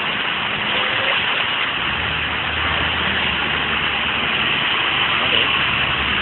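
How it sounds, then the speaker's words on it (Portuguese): Fast floodwater rushes through a street in a steady, loud broadband roar with no pauses, a low engine-like rumble mixed in underneath. "Olha a correnteza d'água aqui. Olha a velocidade da água."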